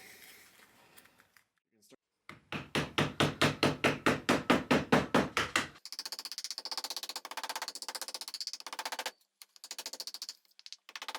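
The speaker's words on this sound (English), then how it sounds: "take the hammer to it and make sure we mat everything down" Hammer tapping leather down over a Kydex knife sheath, a rapid series of about fifteen sharp, close knocks followed by quicker, lighter taps in short runs.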